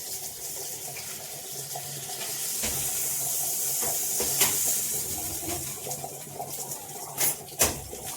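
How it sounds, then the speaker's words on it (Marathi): Clams boil in a pan during the cooking of a home fish meal, a continuous watery bubbling and hiss with a few sharp clicks and knocks near the end, no talking. "ते बघा उकळे आले शिंपल्याला."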